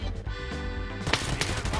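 Gunfire in the shooter game Escape From Tarkov: Arena, a dense run of loud, sharp shots and bursts packed close together and growing harsher in the second half.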